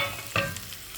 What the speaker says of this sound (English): Just give a gentle stir.